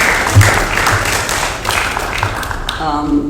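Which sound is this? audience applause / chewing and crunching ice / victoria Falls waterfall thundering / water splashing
audience applause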